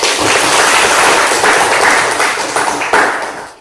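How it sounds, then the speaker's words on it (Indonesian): A class of students clapping together in a classroom: a loud, dense burst of many hands that holds steady for about three seconds, then fades out. "Mari kita tepuk tangan."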